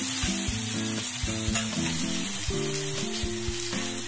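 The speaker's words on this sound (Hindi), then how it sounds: "इसको हमें तकरीबन 1 मिनट तक अच्छी तरह से मिक्स करना है" Poha sizzles steadily in a frying pan under continuous background music with a melodic tune throughout, the frying hiss steady and moderately loud.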